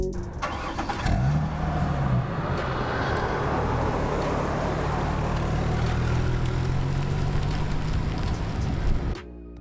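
A car rolling along on a guided tour ride through Osoyoos, a steady engine hum with road and tyre noise, loud and continuous throughout, with no talking.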